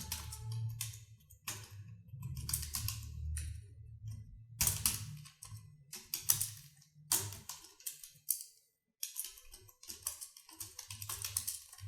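Computer keyboard keys are pressed in quick bursts of clicky taps with short pauses between runs, close and fairly quiet, a Shift+Enter combination among them, no talking.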